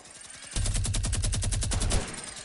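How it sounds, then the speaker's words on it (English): A minigun in an online shooter video game fires one sustained rapid burst of about a second and a half, loud and dense, with no talk over it. "I got a minigun."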